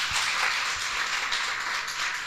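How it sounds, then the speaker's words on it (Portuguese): An audience applauds someone speaker at a women's rights event, steady and moderate throughout a short stretch with no talking. "Quero pedir uma força de palmas para ela."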